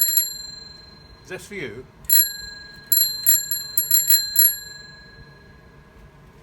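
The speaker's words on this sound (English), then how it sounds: "This is a bell." A bicycle bell rings in a few bright bursts, a single ting first and then a cluster of quick rings with lingering metallic decay, near and clear, with a person briefly talking between the rings.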